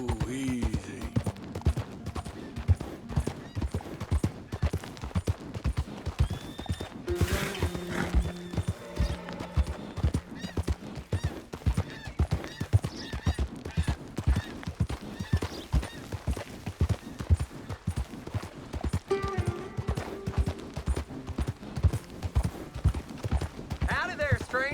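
Horse hooves clip-clop steadily on a dirt trail in the Western game Red Dead Redemption 2, with a whinny and a brief burst of gunfire-like cracks amid the rider's talk and ambient outdoor sound, moderately loud throughout.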